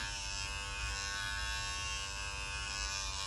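A Skin Invigorate facial cleansing machine runs with a continuous close electric buzz, even and unbroken throughout.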